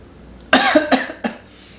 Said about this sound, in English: it's a bad sign when you smell it and it makes you cough